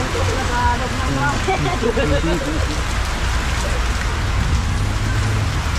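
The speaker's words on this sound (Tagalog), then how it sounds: "Lakas kasi ng ulan." Heavy rain pours down in a dense, steady hiss and patter that never lets up, with voices talking beneath it.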